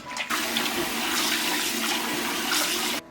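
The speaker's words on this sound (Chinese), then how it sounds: "粉肠剥去油脂了之后，我们来清洗一下，加入1大勺淀粉，多一点的米醋，然后里里外外给它抓洗干净" Pig intestine is scrubbed by hand with starch and rice vinegar, heard as a continuous wet sloshing and running-water rush lasting about three seconds, close and steady with no voices.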